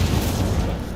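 An Incendio fire spell cast in a video game, heard as a short, loud, rumbling burst that fades slightly over about a second.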